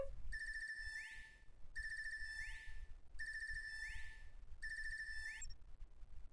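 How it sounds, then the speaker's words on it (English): A synthetic video game phone ringtone from The Legend of Heroes: Trails of Cold Steel III repeats in four bursts, each a warbling electronic trill with a rising sweep, over a low steady hum. "Oh, ringtone."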